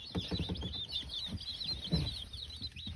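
Newly delivered hatchery baby chicks peeping together, a dense, continuous chorus of high cheeps close by with low rustling and handling noise underneath.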